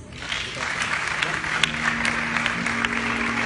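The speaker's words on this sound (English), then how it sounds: "please give the more Binibining Pilipinas 2016 candidates a warm round of applause" An audience at the Binibining Pilipinas 2016 beauty pageant claps warmly for the candidates, a dense, sustained round of applause filling the room, fairly loud and steady from start to finish.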